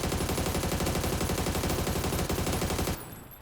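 An SMG in the video game PUBG firing a continuous rapid automatic burst for about three seconds, loud and close, then stopping abruptly.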